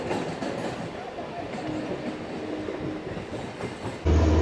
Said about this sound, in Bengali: বর্ধমান মেন লাইনের একই রুটের ট্রেন প্যারালাল হচ্ছে একই স্পিডে